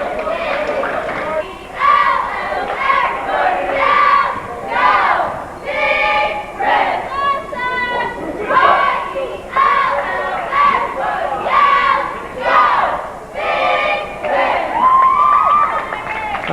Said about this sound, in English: That's the chewing gum cheer.